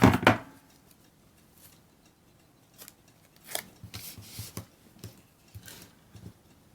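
Scissors snip paper trimmed to fit a handmade matchbook, a sharp cut at the start followed by a quiet pause and then a cluster of short, crisp snips and rustles close by.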